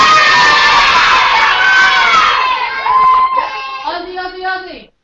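Schoolchildren cheering together over a video call, a loud burst of many young voices shouting and squealing that thins out into a few sustained high calls before cutting off abruptly.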